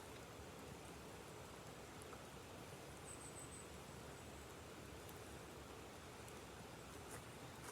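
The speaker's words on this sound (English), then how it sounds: "it's starting to rain." Steady rain falling outdoors, a constant broadband patter close around without speech, the wash continuous and even throughout.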